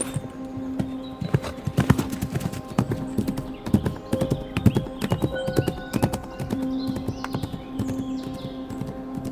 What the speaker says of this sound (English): he found a horse and rode off